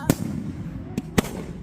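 A couple of dull, thumping bamboo rocket launches pop in the open at a rocket festival in Phanom Phrai, separated by short pauses, with a faint voice in the background.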